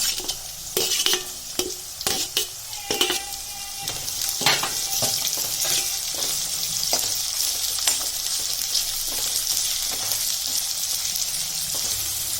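Onion with garlic and chili sautéing in hot oil makes a steady close sizzle, broken early on by sharp spatula clacks and scrapes against the pan that thin out into continuous frying.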